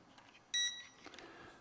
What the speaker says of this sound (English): you're going to spin it 3 times until it beeps